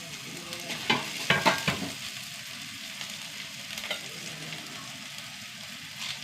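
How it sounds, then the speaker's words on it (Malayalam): Ginger, garlic and green chili frying with onion in a pan for a sadhya-style masala curry; soft continuous sizzle with a few louder stirring scrapes and clatters near the start, no voices. "ഇഞ്ചിയും വെളുത്തുള്ളി ഒന്ന് വഴണ്ട് വരട്ടെ"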